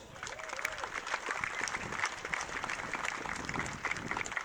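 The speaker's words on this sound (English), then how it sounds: "Can you give them a round of applause?" An outdoor crowd at the Toowoomba Carnival of Flowers parade gives a round of applause for visiting dignitaries, a soft, scattered patter of clapping heard from a distance amid general street bustle.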